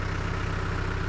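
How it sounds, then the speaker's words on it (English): A tractor engine idling while it warms up at a foundation dig site, a steady low rumble with an even throbbing pulse, close and fairly loud with no voices. "I've got the tractor warming up."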